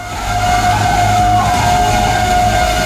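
A fire engine siren at a shop fire in Tuban, Indonesia: a loud, steady wail with a rumbling vehicle and street noise underneath, continuous and close throughout.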